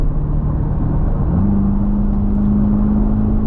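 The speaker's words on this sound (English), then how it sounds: "with the DCT, you can downshift yourself down" A 2023 Chevrolet C8 Corvette Z51 with a dual-clutch transmission, heard from inside the cabin as a loud, steady engine drone steps up in pitch during a downshift and then holds a higher rev.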